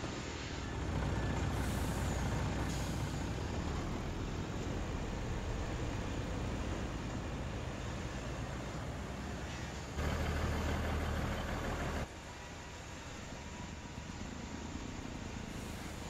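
A truck with air brakes idling and moving nearby, a steady engine rumble broken by sharp hissing air releases, one burst early on and another loud one near the middle.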